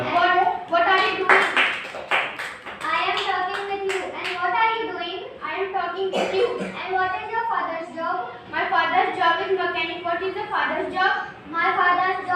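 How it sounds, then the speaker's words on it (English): Children in a spoken English group discussion clap their hands in quick bursts between short spoken answers, with kids' voices talking over much of it. "Clap."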